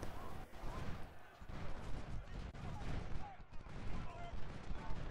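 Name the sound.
cavalry firing a musket volley in a Civil War video game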